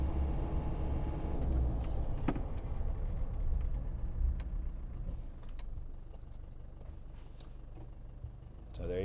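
A Land Rover Defender D90 without ABS slows from around 40 to a stop, its engine rumble fading as the vehicle decelerates, with scattered clicks and small knocks near the end.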